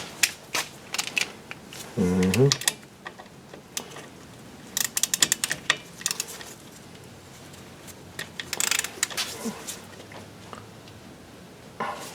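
Bolts being tightened on the front brake of a 2000 Chevy Suburban, with bursts of ratcheting clicks and clanks at close range, one heavier grinding scrape partway through, amid quiet shop noise.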